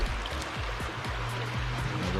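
Running water rinses octopus and conch, a steady close splashing stream with repeated soft knocks and drips as the pieces are handled, with no talk.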